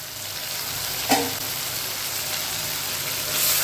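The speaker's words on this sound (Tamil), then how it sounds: "தக்காளி சாஃப்டாக வதங்கி வரட்டும்" Tomatoes sautéing in a clay pot with a soft steady sizzle and a single brief clack of a utensil near the start.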